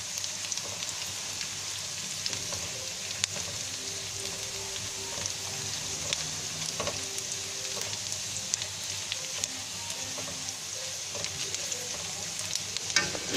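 Schezwan sauce ingredients frying in a pan, a continuous close bright sizzle with small clicks and scrapes of stirring throughout, and faint tonal hums in the background.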